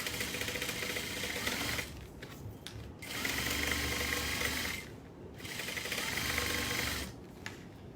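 A sewing machine bastes foam pieces to Walmart vinyl, running in three steady mechanical bursts separated by short pauses, its rapid needle clatter close and fairly quiet.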